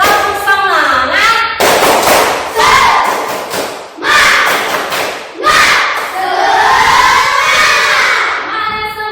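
A classroom of students doing a rhythmic spirit clap, loud group claps and thumps in bursts mixed with children shouting and chanting in unison, with pauses between phrases.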